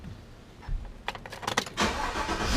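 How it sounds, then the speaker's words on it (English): A full-size GM truck starts up with a short crank and catch of the engine, after which an installed laser countermeasure gives a brief power-on test sound. Keys jingle beforehand, and everything is fairly quiet and close. "when we turn the truck on, we should be able to hear its power on test sound"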